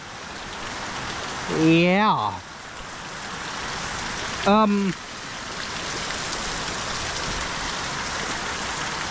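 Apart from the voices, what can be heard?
heavy rain falling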